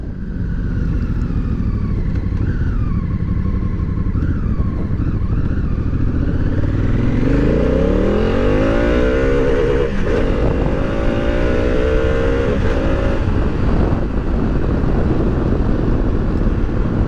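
A Honda CRF1000L Africa Twin motorcycle on a test ride, its engine droning loud and continuous with rising and falling revs as it accelerates through gears, wind rush steady throughout.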